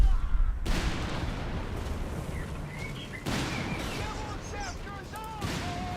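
Anti-tank gun shots in Company of Heroes 3, heavy sharp reports at intervals amid a busy battle bed of distant gunfire and crackling, fairly loud and mixed with other game sounds.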